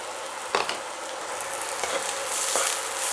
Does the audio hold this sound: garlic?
yes